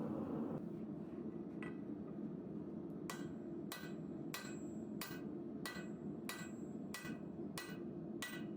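A hammer strikes hot steel in a slow, steady rhythm while forging a Damascus Bowie knife guard, about eight ringing blows, loud and close over a low background hum.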